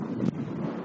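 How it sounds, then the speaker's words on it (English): Strong desert wind buffets the microphone in steady low rumbling gusts, with one sharper thump partway through, close and continuous with no voices. "like 80 mile an hour winds right now"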